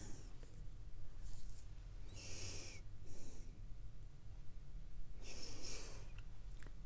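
Dogs snort and breathe in short nasal bursts in a quiet room, with a few separate snorts spread across the stretch and low room noise between them.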